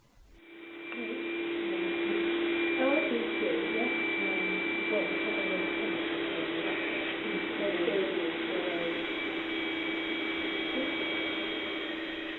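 A vacuum suction table used for mounting embroidery runs as a steady, loud motor hum with a high whine, holding constant for over ten seconds without talk.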